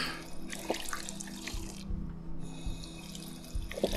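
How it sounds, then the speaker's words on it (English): Tap water running in Fallout 4, a steady mid-level wash of flowing liquid lasting throughout, with small splashes and a faint low background hum. "Oh, that's water for free."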